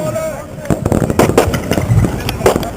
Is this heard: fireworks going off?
yes